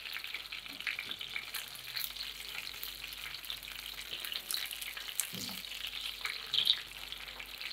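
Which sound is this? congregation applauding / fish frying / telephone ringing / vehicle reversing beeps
fish frying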